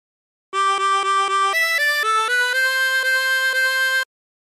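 Chromatic harmonica plays the She'll Be Coming Round the Mountain phrase alone, a run of clear reedy notes: four quick repeated tones, then a few shifting pitches ending in one long held note, close and loud.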